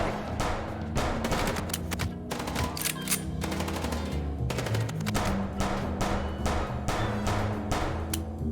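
Sustained machine-gun fire during a car chase in Chicken Police hammers out in rapid, loud bursts across the whole stretch, backed by game music, with no talk.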